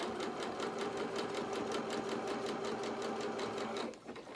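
A sewing machine runs a steady zigzag stitch along one side of a fabric seam, a fast, even mechanical rattle that holds for about four seconds before stopping with a brief clunk.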